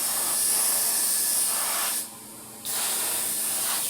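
Spray paint hissing steadily onto an e-flite A-10 Thunderbolt II model airplane, close and continuous, cut by one brief pause before spraying resumes.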